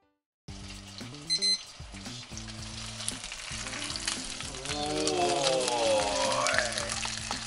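A chicken thigh sears over low heat in a frying pan for a crispy-skinned chicken steak. It makes a steady, crackling sizzle that grows louder over several seconds, with a low tonal hum in the background.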